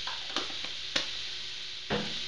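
Chili paste being stirred into okonomiyaki batter in a bowl, a faint soft wet scraping with a few light clicks of the utensil against the bowl, steady and quiet.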